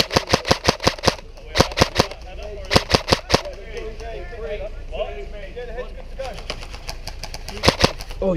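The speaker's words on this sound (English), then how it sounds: "Oh, he's shooting." Airsoft guns firing in a team deathmatch: rapid bursts of sharp snapping shots, close and loud, broken by pauses, with voices talking between the volleys.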